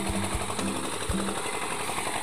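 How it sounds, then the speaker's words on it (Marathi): Farm machine running during chia seed harvesting, a steady mechanical chugging drone with rhythmic low thumps and a dense whirring layer, close and continuous without talk. "हे बघा मशीन चालू आहे चियाची रास।"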